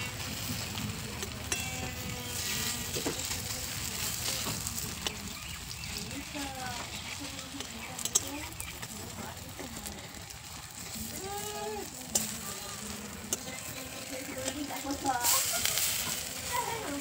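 Spinach and potato fritters, just flipped, sizzle in hot oil with a continuous crackle under a person's talk and a few sharp clicks.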